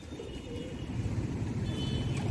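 A male pigeon coos in low, soft, repeated throaty pulses, close by and continuous across the short stretch, with faint background hum.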